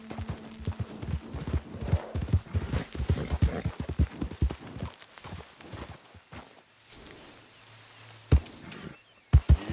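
Red Dead video game horse hooves clopping in a quick rhythm, fading after a few seconds to quieter steps, then a few sharp isolated knocks near the end.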